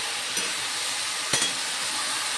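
Taro stolons fry in a pan with a steady, even sizzle while a utensil stirs them, giving two brief scraping clinks against the pan.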